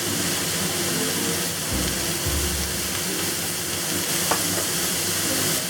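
Leaf tripe and pickled sour mustard stir-fried in a wok, a steady loud sizzle and hiss with scraping, tossing strokes running throughout, no voices.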